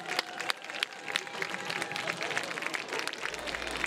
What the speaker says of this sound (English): Please give one more round of applause for these 13 members of the B.B.